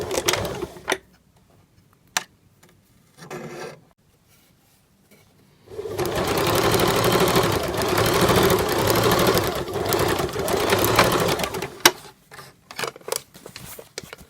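A sewing machine runs a steady burst of stitching along a waistband edge about a centimetre in, preceded by brief starts and clicks and ending with short mechanical ticks, close and clear with no talking.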